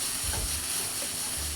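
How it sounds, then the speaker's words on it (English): Garlic and vegetables stir-fry in a wok, a dense continuous hiss and sizzle with low rumbling tosses, close and steady through the brief moment, no talking. "Now remember, this is a stir fry after all, right? So keep stirring."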